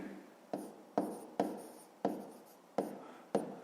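A pen taps and scratches across paper while numbers are written out for a fifth-grade math exercise, about seven quiet, sharp strokes at an uneven pace, each fading quickly.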